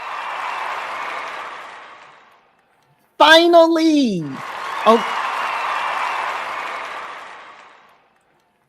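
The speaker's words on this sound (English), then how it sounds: "I got to give you some hand claps, brother." Hand claps played as a sound effect at the start of a casual conversation, with two bursts of clapping separated by a short stretch of talk, fairly close and moderately loud.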